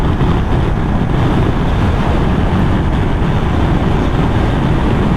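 Steady, loud wind roar buffeting the rider's head on a Triumph Tiger Sport 660 motorcycle at speed, a dense constant rush with no talking.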